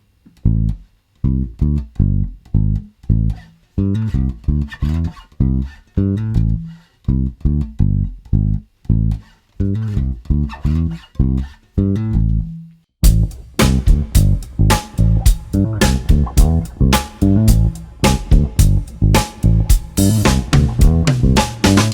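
A bass guitar plays a slow, plucked line with slides and hammered notes; about halfway through, a busier, brighter full band joins and the tempo fills out.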